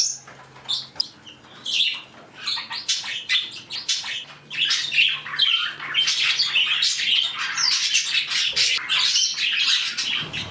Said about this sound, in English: Nightshade, the Java Finch, is in love with Moonlight, the budgie